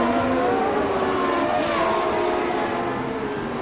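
Christian Fittipaldi's CART race car during 2002 qualifying at Monterrey sweeps past with a loud, close engine whine that drops in pitch as it goes by and trails off slightly at the end.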